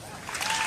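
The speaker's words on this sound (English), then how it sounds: "we have to keep the applause going so it's not awkward" Applause from an audience at a memorial gathering, a brief swell of clapping that builds over less than a second.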